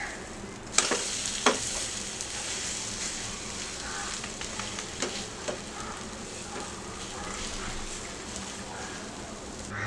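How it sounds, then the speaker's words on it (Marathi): A mushroom and egg omelette fries in a pan over a low gas flame, giving a soft, even sizzle with light crackles and a couple of faint utensil taps near the start. "दुसऱ्या साइडनी पण स्लो गॅसवर 2 ते 3 मिनिटं शिजवून घेऊया।"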